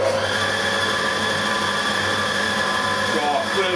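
A milling machine on power feed takes a flattening cut, giving a loud, continuous whine with steady tonal hum and no breaks.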